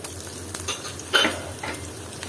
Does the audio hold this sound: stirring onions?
yes